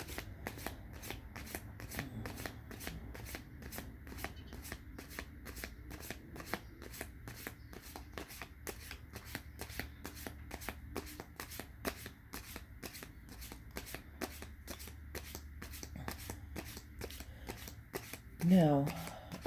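A Rider-Waite tarot deck is shuffled continuously at close range in a quick, steady rhythm of soft card slaps, quiet throughout, ending with a brief louder rustle.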